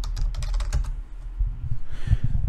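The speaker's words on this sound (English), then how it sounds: "So if I type VSS admin" Typing on a computer keyboard to enter a command: a quick burst of close key clicks, a brief pause, then a few more keystrokes and a final press.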